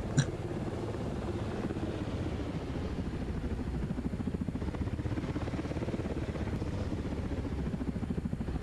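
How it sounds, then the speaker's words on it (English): Simulated helicopter in the FlightGear flight simulator, an HH-60 or Merlin HM1, gives a steady, continuous rotor and engine drone that holds at an even level throughout with no talk over it. "I'm having quite the trouble um, controlling this helicopter."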